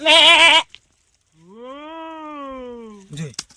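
A person imitates a goat's bleat with a loud, quavering vocal bleat, then a longer drawn-out one after a short pause, and other voices chime in at the end.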